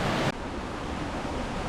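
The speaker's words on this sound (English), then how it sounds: "it sounds like there's a waterfall at the end" Rushing water from a waterfall along a rocky nature trail roars as a steady, broad wash of noise, fairly loud and continuous, with a brief dip near the start and no talking.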